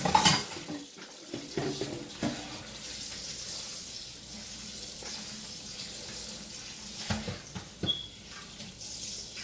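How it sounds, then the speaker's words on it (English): A metal pasta strainer is rinsed under a running kitchen tap, steady water splashing into the sink with occasional clanks of metal against the basin, close up and without talk. "So let me get my other strainer. Hold on. Let me rinse it."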